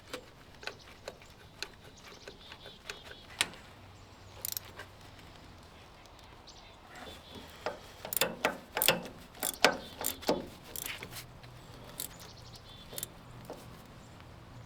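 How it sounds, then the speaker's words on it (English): A hand ratchet with a couple of socket extensions turns a starter bolt on an old Ford tractor, making clusters of sharp, close mechanical clicks in irregular bursts, busiest in the middle stretch, with no talking. "So I'm going to use a couple socket extensions to try to get that started."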